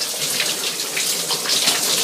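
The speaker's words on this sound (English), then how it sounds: "I get the shower just right." Water from a home shower runs in a steady, close hiss, an even spray with no pauses and no voices.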